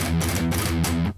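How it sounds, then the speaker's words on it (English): A distorted electric guitar plays relaxed, clean heavy metal gallops, three tight, evenly spaced bursts of palm-muted chugs, loud and close, cutting off abruptly at the end. "and you want them to sound like this,"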